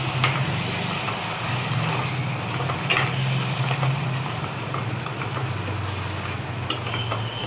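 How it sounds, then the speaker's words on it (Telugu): Tomato paste is stirred into a sizzling paneer curry, giving a loud, steady frying hiss with scraping stir strokes running throughout, no voices. "టమాటా పేస్ట్ వేసుకోవాలి. కలుపుకోవాలి."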